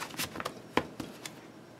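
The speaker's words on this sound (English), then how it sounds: "since now I got some good shuffles in" A tarot deck is shuffled by hand, giving a few quick papery riffles and soft taps in short bursts, close and fairly quiet.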